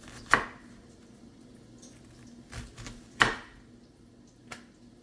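A knife cuts through a raw bacon ranch chicken patty on a board, two sharp thuds a few seconds apart with faint softer taps between, close and otherwise quiet.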